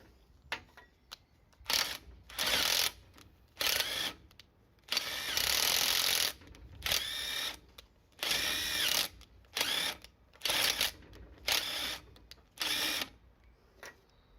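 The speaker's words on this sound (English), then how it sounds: "After a lot of back and forth, I succeed in removing this first jaw assembly." Stuck, rusty jaws of a scrapyard vise are worked back and forth, making close, repeated bursts of harsh metallic grinding and scraping separated by short pauses, with no voices.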